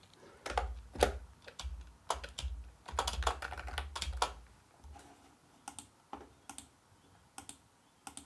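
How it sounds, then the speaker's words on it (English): Typing on a computer keyboard in a quiet room, with bursts of soft, rapid key clicks giving way to slower, sparser taps, close and gentle, with no voices. "I'm going to do a little bit of typing now"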